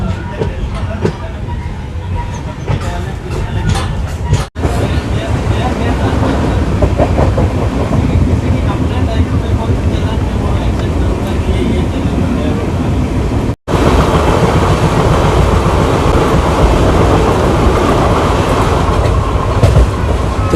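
Chennai superfast sleeper-class express running on the tracks from Mangaluru Central, a loud continuous rumble of wheels and carriage noise with faint clickety-clack, heard from on board with two brief dropouts.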